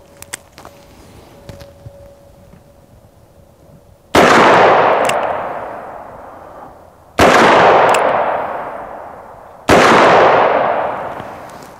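Three loud .44 Magnum gunshots strike AR500 steel body armor, each a sharp crack with a long decaying ring, spaced a few seconds apart after a quiet stretch of faint ambient noise and light shuffling.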